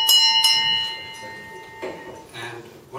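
A bell rung at the opening of a panel session on Canada-US regulation gives a bright ringing strike at the start and a second strike moments later, fading with a sustained tone under faint room noise and soft voices.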